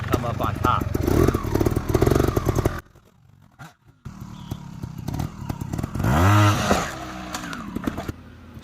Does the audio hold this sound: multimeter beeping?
no